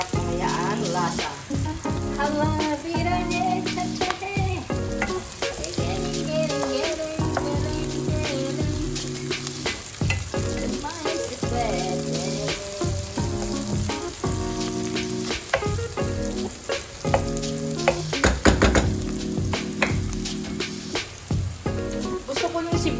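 Chicken bones and onions for adobo sizzle and crackle in a hot pan, with stirring scrapes and clatters breaking through the steady frying hiss.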